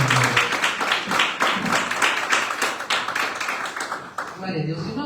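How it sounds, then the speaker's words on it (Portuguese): A church congregation applauds together in a dense, steady patter of many hands that breaks off near the end, with a voice speaking over the clapping. "Se você puder aplaudir o nome do Senhor,"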